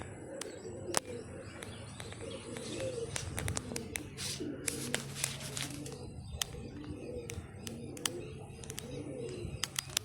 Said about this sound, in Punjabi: ਅੱਜ ਚਾਰ ਪੰਜ ਕਬੂਤਰ ਕੱਢੇ ਆ ਤੇ ਇੱਕ ਕਬੂਤਰੀ ਕੱਢਤੀ